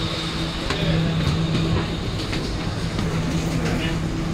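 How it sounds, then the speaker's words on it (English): A new SMRT R151 metro train runs between Outram Park and Tiong Bahru, heard from inside the car as a steady rumbling drone with a faint motor whine and light rhythmic clicks. "It's a new train."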